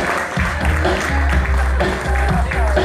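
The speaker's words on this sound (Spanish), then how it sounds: "Fuerte los aplausos también para ella." Audience applause for a contestant at the Reina Cahuane 2018 pageant election, steady clapping under a loud, continuous announcer's voice and background music.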